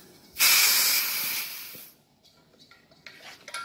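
Refrigerant gas hisses loudly from a car air-conditioning service hose as it is released, a strong burst that holds steady for about a second and a half, then drops away to a faint residual hiss.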